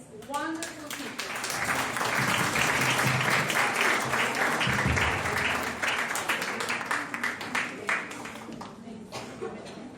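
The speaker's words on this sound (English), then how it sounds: "Please give an applause to this wonderful teacher." Audience applause fills a conference hall at a language event, sustained broad clapping from a large crowd that swells, holds steady, then thins out toward the end, with some voices mixed in.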